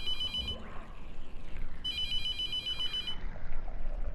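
Phone ringing in The Mortuary Assistant horror game: two bursts of a bright electronic ring separated by a pause, fairly faint over low background ambience.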